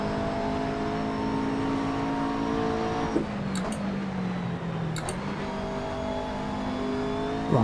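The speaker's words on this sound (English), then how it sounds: "that does sound like a Mercedes." Racing engine of a Mercedes race car in the Assetto Corsa game, droning loudly as revs climb, dropping through a couple of quick gear changes, then pulling again, steady and close.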